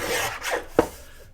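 Paper for journal pocket pages is cut in a short rasping rub with a sharp snip near the end, close and fairly loud, lasting just over a second with no voice.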